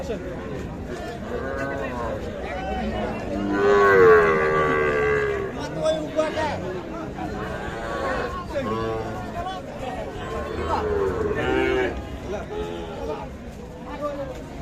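Cattle, including calves and cows, moo repeatedly at a cattle market, deep drawn-out calls from several animals nearby, mixed with a busy babble of people talking around them.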